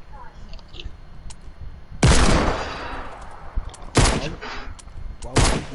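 Bursts of gunfire from a PS4 battle-royale shooter with a golden combat SMG, three loud broadband volleys at roughly two-second intervals, each with a decaying tail over a noisy background.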